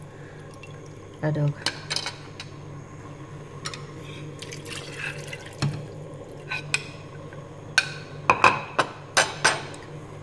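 Filtered water is poured into a pot of Vietnamese beef stew with coconut, giving intermittent splashes and drips that grow busier toward the end, with a brief spoken phrase.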